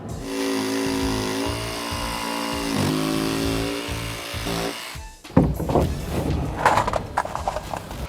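A power saw whines steadily through a Cedral fibre-cement siding board for about five seconds, then stops, followed by knocking and clattering of cut pieces.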